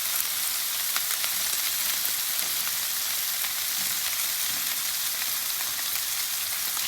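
Meatballs sizzle and fry steadily on a hot flat-top griddle, a dense, even crackle that holds for the whole stretch with no voices.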